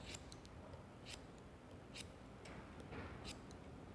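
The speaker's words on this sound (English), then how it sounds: "we're gonna cut straight across" Scissors snipping straight across a hair fringe during a textured bob haircut, a series of short crisp cuts spaced irregularly over soft salon room noise.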